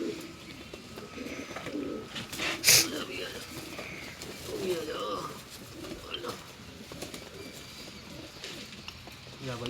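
Pet pigeons, a cock and hen kept for sale, coo in soft repeated phrases close by while someone talks over them and a sharp rustle or flutter stands out briefly.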